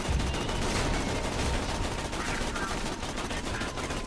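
Continuous rapid gunfire from shooting in Borderlands 2, dense and loud throughout with overlapping bursts and no clear pauses.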